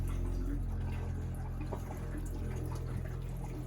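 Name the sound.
antifreeze flushing through RV 5th wheel drain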